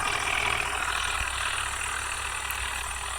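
A tractor engine idles close by with a steady, loud mechanical hum and faint knocking throughout, with no voices.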